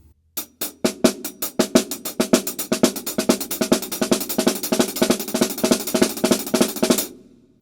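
A snare drum played with a loud double-stroke pattern, crisp rapid hits in a steady continuous roll lasting several seconds, close and alone.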